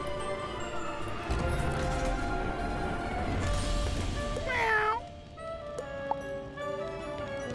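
A fire cat pet in the Wizard101 video game lets out a rising, wavering meow near the end, over busy game music and ambient effects.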